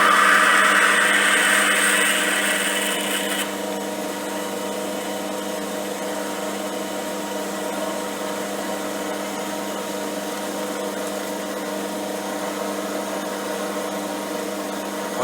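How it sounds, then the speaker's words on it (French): A metal lathe drills a handle for a welding table, giving a continuous motor hum with a sharper grinding layer in the first few seconds that fades into a steady drone, with no talk. "Alors, le perçage, faut y aller, hein. Faut pas y aller trop doucement"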